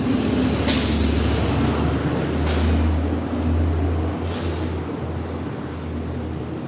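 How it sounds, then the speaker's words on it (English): Heavy tour bus rumbling past on a city street, a steady low engine drone with several bright hissing bursts like air brakes releasing, fairly close and loud, with no one talking. "Here's a tour bus."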